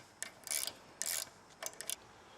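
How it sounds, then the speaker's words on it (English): An 8mm ratcheting wrench drives a bolt in while assembling a donor Mustang suspension, giving short bursts of quick, close metallic ratchet clicks separated by brief pauses, with no talk. "we got a 8mm ratcheting wrench, and we'll put her in."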